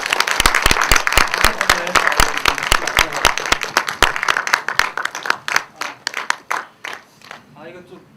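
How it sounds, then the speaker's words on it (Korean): A small audience at a post-film talk claps in a lively, close burst of distinct individual claps, with a voice heard, before the applause thins and trails off toward the end. "박수 한 번 더."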